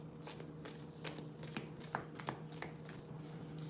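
A deck of cards, likely tarot or oracle cards, is shuffled by hand in quiet, rapid riffling bursts, soft and close, with a low steady hum beneath and no talk.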